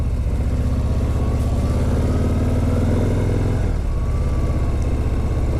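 A motorcycle engine runs steadily on the road on the way to a shop, a dense low rumble with some revving, continuous and fairly loud throughout, with no talking.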